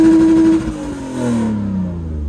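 A car engine is started and revved by a mechanic checking its sound, a loud near rev that holds a rising drone, then drops and rises again before easing off, with no talk over it.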